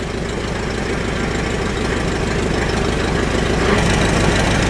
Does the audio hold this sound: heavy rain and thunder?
no